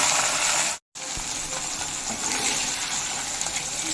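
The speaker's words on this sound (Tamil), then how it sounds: "கத்திரிக்காயும் நல்லா வதக்கிக்குவோம்." Drained eggplant pieces sautéing in a pan for a Tamil kuzhambu give a steady, bright sizzle that is briefly cut by a short silence, then hisses on evenly with no talking.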